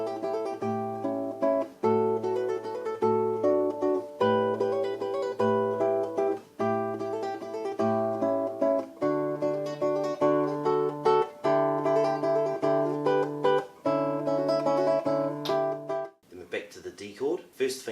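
A classical guitar plays an excerpt of Matteo Carcassi's Etude No. 10 in steady, evenly picked arpeggiated notes with clear bass and treble lines, close and unaccompanied, ending in a brief scrape of noise.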